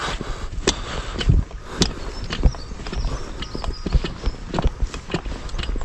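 Cattle walk heavily toward a riverbank, their hooves thudding and clopping irregularly close by, with occasional snorts over a steady outdoor background.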